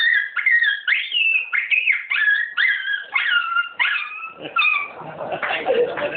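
A man vocally imitates a dog, giving a rapid series of high yelping, whining barks in an even rhythm, close and loud, ending in a rougher growl-like sound.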